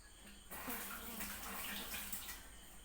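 Running water pours over two hands being washed at a tap while cooking, a close, steady splashing that begins abruptly and continues throughout.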